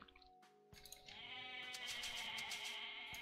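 Goats bleating in the Age of Mythology strategy game, several overlapping bleats building into a loud chorus after a quiet start, with no talking.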